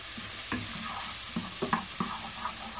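Onions frying in a pan for onion gravy, stirred with a wooden spoon: a steady close sizzle with several sharp scraping strokes of the spoon through the pan, no voices.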